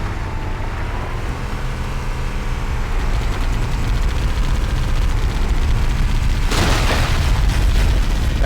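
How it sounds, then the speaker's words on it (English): Gunfire in the shooter game Halo CE hitting through the ground, heavy booming rumble that builds steadily, then a loud blast near the end, with battle noise around and no voices. "That gun is shooting us through the ground."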